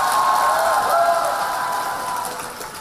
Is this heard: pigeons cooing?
no